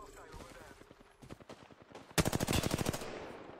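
An RE pistol fires in a video game: rapid bursts of shots, with a loud, fast volley near the end, plus a little quiet talk.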